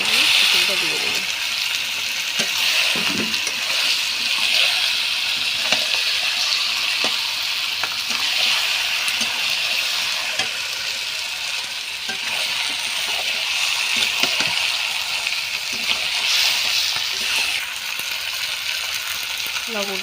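Chicken pieces sizzle steadily in hot spiced oil in a pan, a dense continuous frying hiss with occasional stirring scrapes, loud and close throughout.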